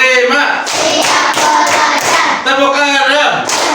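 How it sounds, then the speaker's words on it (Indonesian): A classroom of students clapping hands together in unison, loud sharp bursts of applause in a counted rhythmic pattern with brief pauses between groups of claps, close and lively. "kita tepuk tangan dulu ya"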